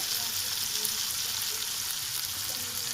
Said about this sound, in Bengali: আমার বেগুন ভাজি প্রায় হয়ে গেছে, আর অল্প নাড়াচাড়া করে আমি নামিয়ে নিব